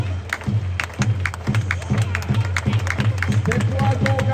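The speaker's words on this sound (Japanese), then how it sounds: "みんなでこの太鼓のリズムに合わせて手拍子" A baseball stadium crowd claps in time with the cheering squad's drum rhythm at a night game, with steady, evenly spaced beats under an announcer's voice and the general noise of the crowd.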